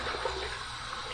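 Hot tap water runs steadily into a bathroom sink, a continuous close splashing rush with no break, ahead of rinsing a safety razor.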